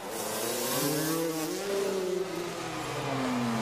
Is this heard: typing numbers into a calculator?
no